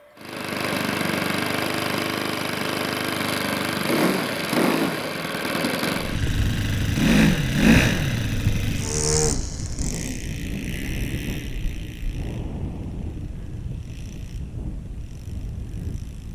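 Small OS FS26 four-stroke engine on a Speedy Bee model airplane with upgraded suspension, a steady buzzing drone rising in pitch as it taxis and takes off at an airfield, with wind noise on the microphone and no talk.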